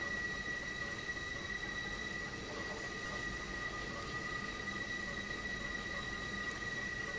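Challenger steam locomotive on the Clinchfield line in a train simulator, a steady rolling rumble and rail noise with faint whistle-like tones, continuous and even.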